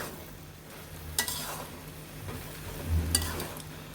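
Prawn chorchori being stirred and turned in a hot pan, giving a soft sizzle with scraping bursts of the spoon against the pan at two moments.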